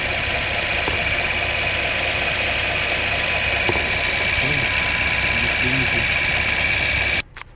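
A 2018 Honda Civic Si 1.5L turbo engine idling as it warms up after a fuel-injector change: a steady, continuous hum with a faint whine, heard close, with brief murmurs of voice before it cuts out near the end.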